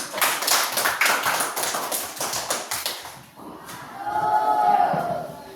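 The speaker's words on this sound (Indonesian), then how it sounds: "Coba semua tepuk tangan." A class of students claps along together in a quick, steady patter for about three seconds, followed by softer murmuring and voices.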